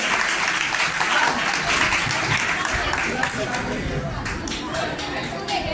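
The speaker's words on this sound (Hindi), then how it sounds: "तो आइए आज की इस महफिल को शानदार बनाने के लिए भरपूर तालियों की गूंज में BSc final year Aafia team को दावत देती हूं" An audience at a college freshers' party in Zaheerabad claps loudly and steadily throughout, with a dense wash of applause and crowd murmur.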